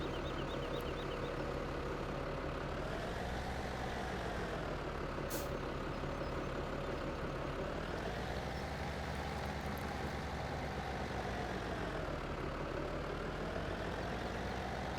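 An old tractor engine from Farming Simulator 17, working in GoldCrest Valley during ploughing, drones steadily and loudly with a low, heavy rumble, rising and falling in pitch as it works, with a brief high hiss partway through.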